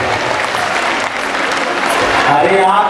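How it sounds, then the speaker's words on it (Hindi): An audience at a wedding celebration applauds loudly to welcome a guest, with dense, steady clapping from a large crowd throughout, slightly swelling toward the end. "उनका जोरदार तालियों से स्वागत किया जाएगा।"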